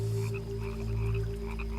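Australian rocket frog croaking in a steady, continuous chorus with low pulsing tones, close and fairly loud, with no voices.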